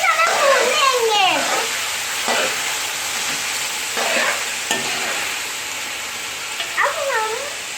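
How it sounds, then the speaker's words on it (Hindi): Chicken karahi frying and being stirred in a pan at a Pakistani street food stall, a steady sizzle broken by scraping stir strokes, with squeaky chirping sounds from nearby. "अब हम इसको अच्छी तरह भून लेंगे।"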